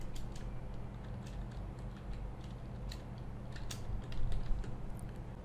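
Light typing on a computer keyboard, with a scattering of soft, irregular key clicks over a low hum. The keystrokes are faint and there is no speech.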